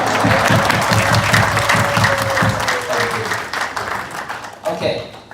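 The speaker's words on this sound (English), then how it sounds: "I'd like to give you guys another chance to give a proper round of applause." A diaspora property showcase crowd gives loud, dense applause with a strong steady clatter of hands, while a low rhythmic tone runs underneath and the clapping thins out near the end.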